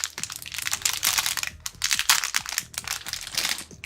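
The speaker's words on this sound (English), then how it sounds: "yeah, sorry about the loud crackle sounds now." The plastic packaging of a Pokémon Evolving Skies Elite Trainer Box crackles and crinkles close up, in loud, rapid bursts of sharp crunching with a few brief pauses.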